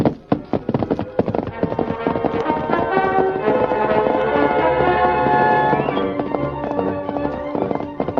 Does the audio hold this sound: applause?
no